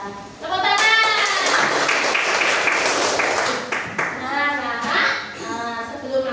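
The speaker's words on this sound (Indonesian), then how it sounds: "Ya, tepuk tangan." Sixth-grade pupils in a classroom break into a burst of clapping, a loud mass of hand claps lasting a few seconds, overlapped by children's voices and a teacher speaking.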